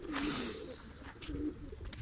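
Pigeons coo softly in a loft, two low rolling coos about a second apart, faint and close, with no talking over them.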